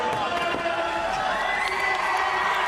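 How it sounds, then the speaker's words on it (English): Steady crowd roar and cheering at a skateboarding contest, the 2012 SLS World Tour final in Glendale, Arizona, with scattered shouts and whoops rising over a continuous dense wash of voices, loud and sustained throughout. "This crowd completely behind him"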